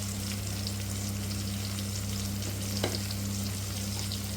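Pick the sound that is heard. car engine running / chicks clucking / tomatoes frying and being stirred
tomatoes frying and being stirred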